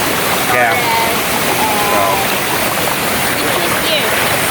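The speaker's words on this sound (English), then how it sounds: "This is our 3rd waterfall." A waterfall on Siquijor Island in the Philippines gives a steady, loud rushing wash of falling water through the whole stretch, with faint voices and a few bird-like chirps over it.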